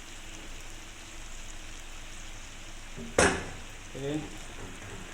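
Tofu stir-frying with oyster sauce and kangkong stems: a soft, steady sizzle, then one sharp loud splash of hissing as ingredients hit the pan, followed by quieter stirring scrapes.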